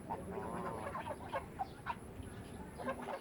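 Four ducks quack in short, scattered calls at moderate distance, standing out against a steady low outdoor background, with no one talking.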